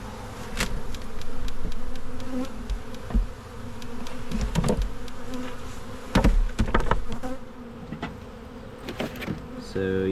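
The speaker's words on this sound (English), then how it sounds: "decent amount of bees hanging out in the bottom box there." Honeybees from a captured swarm buzz steadily inside and around a wooden hive box, a dense continuous drone with occasional knocks and bumps from the box, close and moderately loud throughout.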